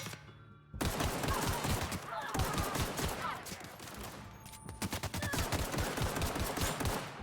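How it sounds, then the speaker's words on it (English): Sustained automatic machine gun fire in The Outer Worlds video game, a dense rapid stream of loud shots with brief pauses between bursts, with faint talk underneath. "Oh shit, he's got a machine gun."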